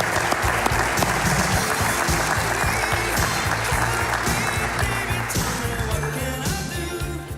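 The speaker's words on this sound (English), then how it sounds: "Big round of applause, Carla Moran." A studio audience claps in loud, sustained applause from start to finish, a dense steady roar of many hands with no break.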